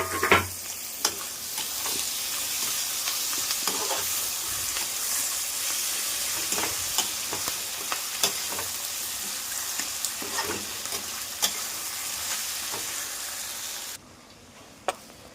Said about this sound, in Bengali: আমার পেঁয়াজটা হালকা হালকা ভাজা হয়ে গেছে, আমাদের টমেটোটা দিয়ে দেবো আমি